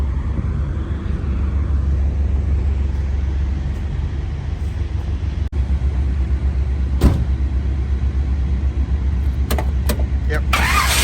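A 1955 Chevrolet Bel Air with a 350 V8 engine and 700R4 transmission idling steadily with a deep low rumble, a few sharp clicks and knocks breaking in near the end.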